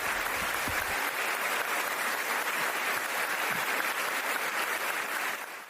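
A church congregation in Leganés, Madrid, welcomes sister Maria Luisa with steady, full applause from many hands that carries on evenly for several seconds and then fades.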